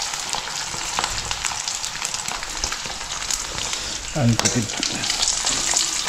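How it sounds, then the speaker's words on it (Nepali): Sukuti, Nepali dried meat, frying in a pan with steady close sizzling and crackling, a stirring clatter near the end, and a brief spoken word over it. "फाइनली फाइनली हामी सुकुटी फ्राई गर्छौँ"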